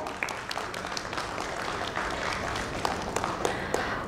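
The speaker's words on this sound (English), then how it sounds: "Please welcome Mr. Mohit Rochlani with a huge round of applause" An audience at an insurance industry summit and awards event greets a panelist coming on stage with sustained applause, a steady crowd of hands with a few sharper individual claps standing out.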